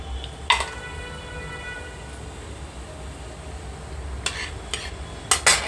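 Tempering seeds crackling in hot oil in a kadai while making an ivy gourd and fresh coconut fry, a soft continuous sizzle with a few sharp metallic clinks of a spoon against the pan.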